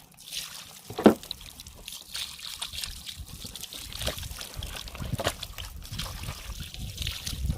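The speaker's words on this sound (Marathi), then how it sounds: "कतला मस्त धुवून घेऊ." A whole katla fish, about three kilograms, is rinsed under running water, with a steady trickle and splashing and a sharper splash near the start.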